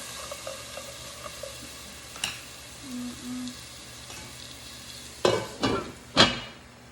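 Onions cook in about two teaspoons of olive oil, giving a faint low sizzle with a few soft clicks, then three louder scraping stirs near the end, close by with no voices.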